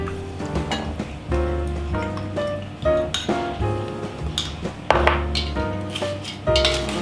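Dressing being stirred through a shredded cabbage, beetroot and apple salad in a bowl, with repeated wet squelches and light clinks of a utensil against the dish in an uneven close rhythm.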